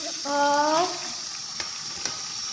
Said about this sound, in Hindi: उस हिसाब से मैं अब इसको कर रही हूँ फ्राई